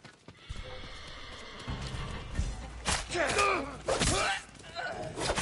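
Horses neigh and whinny amid hoof clip-clops and thuds in the video game Ghost of Tsushima, with voices talking over the scene.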